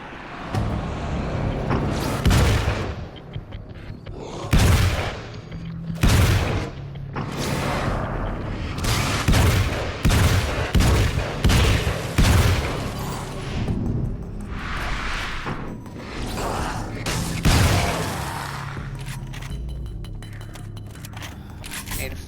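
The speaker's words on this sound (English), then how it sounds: "Hunting rifle." Hunting rifle fire in the video game Alan Wake's American Nightmare, heavy booming shots recurring every couple of seconds amid explosions and game noise, close and loud.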